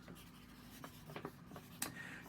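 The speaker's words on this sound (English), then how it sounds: "I've got to write that down because I forget to do this" Pen or pencil writing a note by hand on paper, faint close scratching strokes in short quick bursts.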